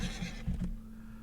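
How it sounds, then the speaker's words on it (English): A flying horse neighs in the online role-playing game Dungeons and Dragons Online, one short whinny close and clear that fades quickly into quiet. "Flying horse."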